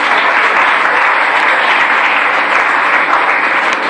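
A church congregation applauds during a service, loud and steady clapping from many hands close by with a faint crowd murmur underneath.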